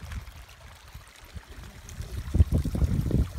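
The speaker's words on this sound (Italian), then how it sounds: "guarda che acqua, piena di acqua," Clean, clear stream water flowing beside a road in the Turkish village of Yeni Köy, Refahiye, Erzincan, a steady low rush and trickle that grows fuller and louder toward the end.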